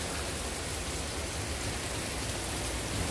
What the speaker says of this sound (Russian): На улице дождь, ребят, идет.